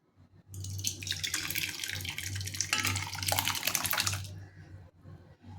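Curdled milk for homemade paneer pours through a thin cloth, making a loud, continuous splashing rush of liquid that swells for several seconds and then tapers off into a few drips.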